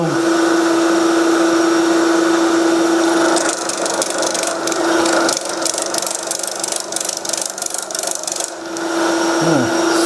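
A power drill spins a bit in a workshop while building a steampunk computer stand: a loud, steady high motor whine, then grinding, scraping cutting noise through the middle before the whine returns and winds down.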